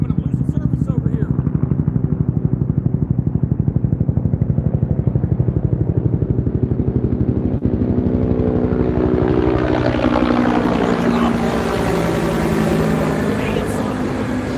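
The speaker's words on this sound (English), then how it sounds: "I think that's one of the loudest times I've had one of them choppers come down on me" A helicopter comes down low overhead during a night of catfishing in DC, its loud rotor thump pulsing steadily throughout and swelling with a rising whine as it passes close, while a person talks.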